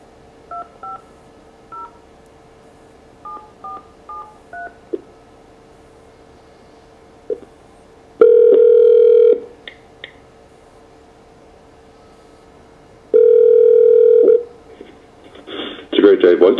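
Short bursts of dial tones beep in a quick sequence from a Phoenix Audio Spider MT505 conference phone placing a VoIP call, then two long, loud electronic rings sound with a pause between them, followed by a brief clatter.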